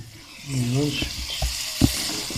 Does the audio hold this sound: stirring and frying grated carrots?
yes